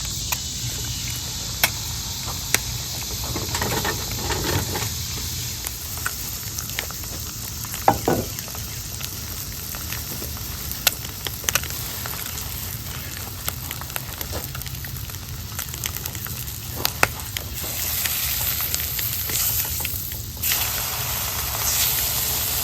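Bologna fries in a cast iron skillet over a hobo stove with a steady, soft sizzle and occasional pops and crackles, continuous for the whole stretch with no talking.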